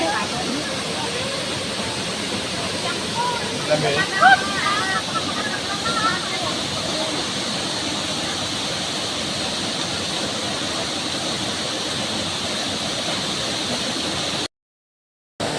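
Continuous roar of a waterfall, loud and close, with rushing water steady throughout and faint voices briefly audible beneath it.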